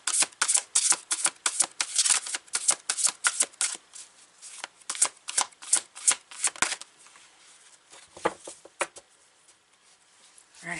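A deck of oracle cards shuffled by hand in a quick, crisp run of riffling flicks for about seven seconds, then a few softer, sparser card slaps and rustles, close and alone with no talk.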